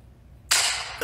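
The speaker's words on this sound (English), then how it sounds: "was that a gunshot?" A single gunshot sound effect cracks out suddenly, a sharp loud burst after a moment of quiet that decays with a bright noisy tail.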